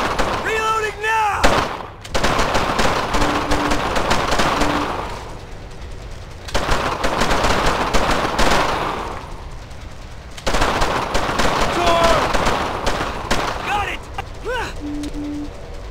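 Heavy gunfire in Brothers in Arms: Earned in Blood rattles in long bursts and rapid volleys, loud and close, with brief lulls between barrages and shouted voices mixed in.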